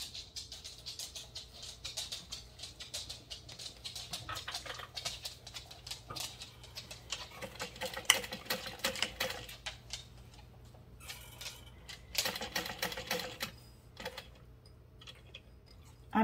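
A sewing machine stitches along a drawn line on a Traudy Triangle bag at a number 4 stitch length, a fast, steady ticking run of needle strokes that pauses briefly near the end before resuming, with no voices.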